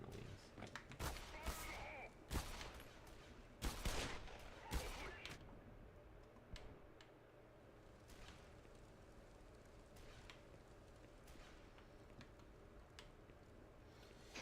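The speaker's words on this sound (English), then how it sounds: "What is shooting at me, dude?" Enemy gunfire in the video game Black Mesa, a cluster of sharp shots and bursts early on, then sparse fainter pops over a low steady background, fairly distant.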